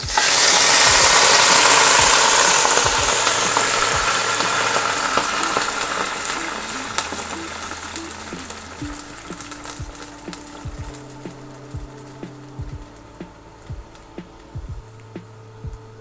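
Litre of blonde beer poured into a hot pan of browned chicken, opening with a loud fizzing sizzle that gradually settles into a quieter simmer with scattered clinks of a utensil against the pan.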